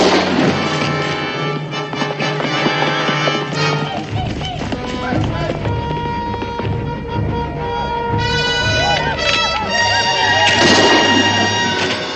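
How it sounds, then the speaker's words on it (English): Rifle and musket shots ring out in a frontier western battle scene, sharp reports scattered over a dense, loud mix of horses' hooves, dramatic orchestral music and commotion throughout. "That newfangled rifle he's got 3 times faster than a musket."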